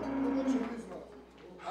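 Cattle on a livestock farm in Georgia, a herd of 19 cows, give a low moo-like call early on, moderately close, amid some background murmur.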